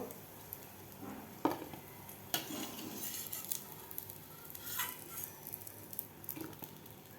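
Ridge gourd (gilke) bhaji deep-frying in hot oil, a soft continuous sizzle with scattered bubbling pops and a few sharp clinks, fairly quiet and close, with no voices.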